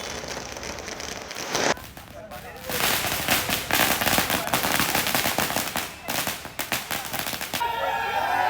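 Rapid bursts of firecrackers set off by film fans outside a movie theater at a release celebration, loud crackling volleys with sharp repeated pops, pausing briefly before continuing in dense runs.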